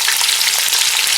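Onions hit hot oil in a frying pan over a fully high flame, giving a loud, bright, unbroken sizzling hiss with no talking.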